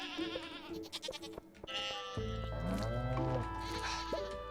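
A goat bleating in the farming game Stardew Valley, several wavering bleats over game music and chimes, clear and close.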